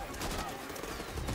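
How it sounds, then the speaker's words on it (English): Gunfire in the video game Marvel's Spider-Man Remastered, dense and continuous, with rapid overlapping shots that form a steady fusillade across the whole moment. "A lot of gunfire."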